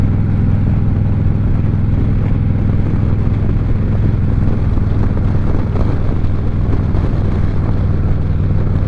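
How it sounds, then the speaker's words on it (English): Loud, constant wind roar buffeting the microphone with a low engine drone underneath, riding at speed on a motorcycle along the Gulf Coast on a windy day. "Definitely pretty windy out today."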